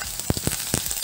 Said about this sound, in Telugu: కలర్ మారే వరకు మంచి గోల్డ్ కలర్ వచ్చే వరకు వేయించుకొని పెట్టుకోవాలండి